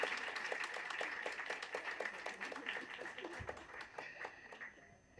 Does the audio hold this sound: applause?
yes